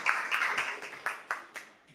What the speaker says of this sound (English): Let's give a round of applause for everyone here coming on a Friday